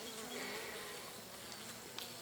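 A swarm of bees buzzes inside a paper barrel more than 30 cm across, a steady, dense drone that holds evenly throughout with no talk.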